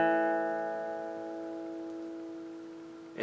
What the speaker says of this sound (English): So the 5th and 4th string would sound like this.